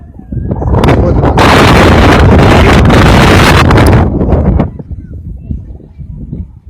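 Loud, roaring wind blasts across the microphone for several seconds, then eases to gusty rumbling.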